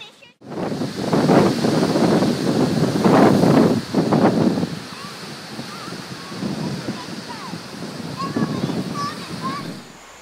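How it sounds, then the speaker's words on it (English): Big waves and strong wind on Long Island Sound roar in loud, broadband surges, with heavy gusts buffeting the microphone before easing into a steadier wash of surf. "On the Long Island Sound, have you ever seen waves this big?"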